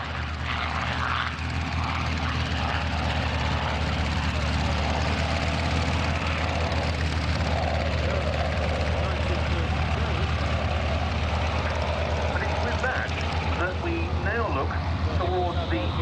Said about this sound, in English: we're going to see the aircraft that was based at Duxford, Station 357 in Duxford.